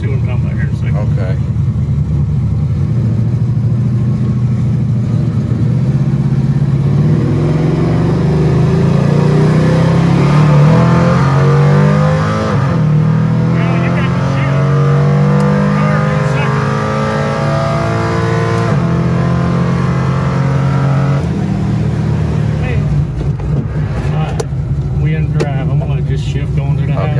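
A 1973 Camaro Z-28 Rally Sport engine roars loudly from inside the car, its pitch climbing steadily as it revs before dropping at a gear shift from low to second, then pulling again.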